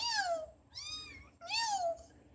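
A cat at an animal shelter meows three times in quick succession, close and clear, each call rising then falling, over a faint low hum with no talking.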